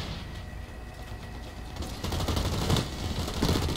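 Rapid gunfire in the first-person shooter Blacklight: Retribution, a sustained burst of automatic shots that swells louder in the second half, dense and continuous with no voices.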